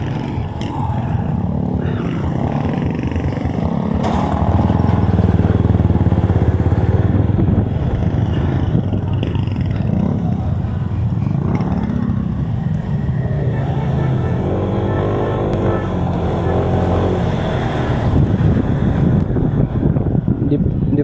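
A motorcycle on a short ride gives a continuous low engine drone mixed with heavy wind buffeting on the microphone, steady and close, with a rider talking intermittently over it.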